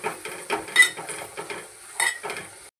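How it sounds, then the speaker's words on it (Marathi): Stir-frying Agri Koli masala with turmeric in a pan for stuffed pomfret, with irregular scraping and clinking strokes of a spatula against metal over a soft, continuous sizzle and no voices. "आणि आता थोडी हळद टाकायची आणि चांगलं परतून घ्यायचं।"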